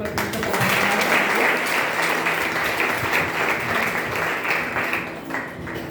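A church congregation claps loudly together at a Hindi Independence Day service, dense sustained applause that swells early and holds steady before tapering slightly near the end.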